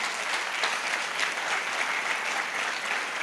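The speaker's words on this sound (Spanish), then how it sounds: "Dale un fuerte aplauso al Señor Jesús." A church congregation claps steadily and evenly for a few seconds, a dense wash of applause with no voices rising above it.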